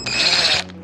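A power driver whirs steadily for under a second, backing a front-panel fixing screw out of a Samsung Grande top-loading washing machine, then stops abruptly. The sound is close and loud.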